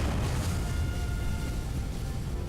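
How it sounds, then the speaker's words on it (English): A rocket launch in the video game Buzz Aldrin's Space Program Manager, an Atlas Agena booster lifting off with a loud, steady, low roar that holds at full strength throughout. "We have a successful launch."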